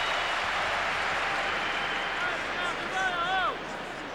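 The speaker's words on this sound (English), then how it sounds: "there's Arsene Wenger getting a cheer from the crowd" Stadium crowd at the France v Brazil centenary football match giving Arsene Wenger a cheer, a broad roar and murmur of spectators swelling slightly in the distance, with a whistle-like call rising near the end.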